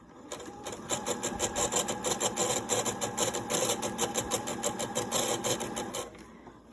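A sewing machine stitches fabric for a chicken-shaped grocery bag holder, a quiet, rapid rhythmic chatter running steadily for about six seconds before stopping.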